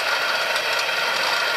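A small farm engine runs steadily up close, a loud, continuous rattling drone with no change in pace.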